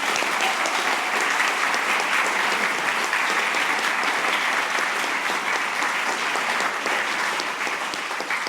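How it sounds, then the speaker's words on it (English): Audience applause for the speakers and attendees at a theater tribute event to Maui's coral reefs, a dense, continuous roar of clapping at a steady level throughout. "Please give yourselves a big round of applause."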